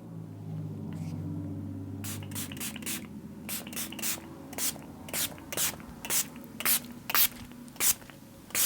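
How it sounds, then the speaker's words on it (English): LA Girl setting spray is misted from a pump bottle, about a dozen short, crisp hissing bursts in a steady rhythm, close and loud, following a low murmur of talk. "So let's use the LA Girl setting spray."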